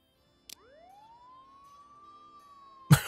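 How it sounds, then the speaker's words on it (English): A police car siren in Contraband Police starts after a short click, winding up into one long, rising wail that holds steady before a loud thump cuts it off. "We can turn the siren on."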